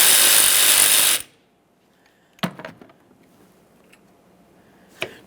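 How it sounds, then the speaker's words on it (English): A power tool whirs loudly for about a second, removing 10mm upper mounting nuts on a 2009-2014 Nissan Maxima 3.5L V6 battery tray, then stops, followed by a few sharp metallic clanks of loose parts. "Let's go ahead and start removing those upper mounting nuts so we can remove the upper portion of this."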